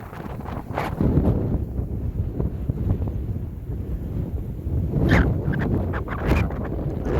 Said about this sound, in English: Pardon the wind, it's really windy today.